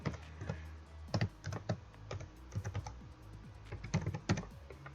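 Typing on a computer keyboard, close up, with irregular clusters of sharp key clicks and short pauses between bursts.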